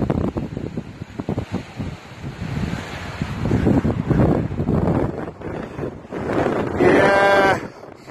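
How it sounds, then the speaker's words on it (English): Strong wind buffets the microphone on a Danish coast, a steady roaring rush with gusts swelling and easing throughout, while a bleating animal cries out briefly near the end. "Denmark is a country of a lot of wind."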